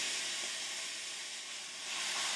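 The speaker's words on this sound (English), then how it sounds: "Got a nice smoke on our pan, so it's going to get a good sear on it." Sausage searing in a hot, smoking pan, a steady close hiss and sizzle that holds constant throughout with no talking.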